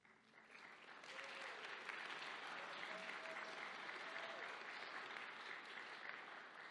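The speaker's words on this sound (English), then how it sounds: "feel free to applaud at the end for each student" Audience applause at a 2021 Northeast Independent Preparatory Academy graduation, greeting a graduating student: sustained, dense clapping that holds steady throughout, with a few faint voices and whistles mixed in.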